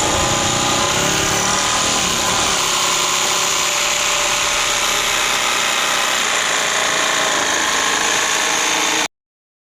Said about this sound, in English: I'm actually gonna use a jigsaw to cut it. It cuts better than the utility knife.